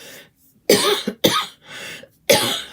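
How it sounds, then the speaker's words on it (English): Three harsh, chesty coughs in quick succession, close and loud, separated by brief silences. "my cough had gone away completely, but if I talk a lot, it comes back"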